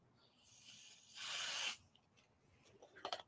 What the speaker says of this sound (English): I got my 505 spray. And I'm just going to spray the back of this.